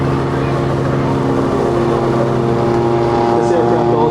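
A Hughes 500 (OH-6) helicopter flying at an air show demonstration, giving a steady, loud engine and rotor drone with tonal hum that persists throughout, while a voice talks over it.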